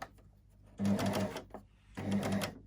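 A sewing machine stitches piping cord onto fabric for a bottle gift bag, running in two short bursts with a pause between, close and fairly quiet, with faint handling noise around the stitching.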